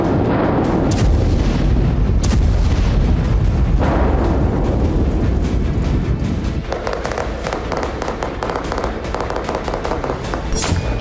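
Explosions and artillery fire boom again and again in a wartime city strike, mixing heavy detonations with sharp cracking bursts in a loud, dense, irregular barrage.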